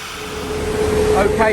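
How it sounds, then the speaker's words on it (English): A steady, loud whoosh of a cooling fan at a dyno session with a Honda Civic FN2 Type R fills the clip, with a faint hum underneath. "Sorry about the noise of the fan"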